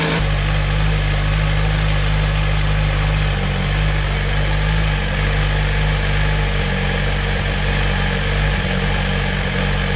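A 2017 Suzuki GSX-R1000R motorcycle engine idles steadily to warm its oil before an oil change, a loud, constant low rumble with a smooth even drone that holds unchanged throughout, close to the microphone.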